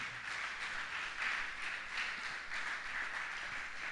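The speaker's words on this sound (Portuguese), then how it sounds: "Quem crê, aplauda o Senhor Jesus no nível que crê." A congregation applauding during a church sermon, the clapping steady and fairly distant, forming a continuous wash of sound in a large space with no talk over it.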